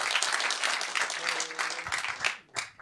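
An audience at a workshop applauding steadily after a talk, a dense wash of many hands clapping that carries on for a few seconds before tapering off near the end.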